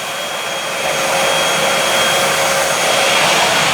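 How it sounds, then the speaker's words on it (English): A Bissell Featherweight stick vacuum cleaner running on a floor, a loud, steady motor whir with a faint tonal whine, rising slightly in level and holding constant with no talking. "Let's see how the Bissell Featherweight does. We're going to turn the switch on."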